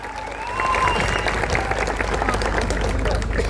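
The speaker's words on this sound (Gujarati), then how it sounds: "ત્યારે એમને તાળીઓથી આપણે વધાવી લેવાના છે." Applause from a political gathering welcoming newly elected district panchayat leaders, a sustained crowd clapping that rises after half a second and continues densely throughout, fairly close and loud.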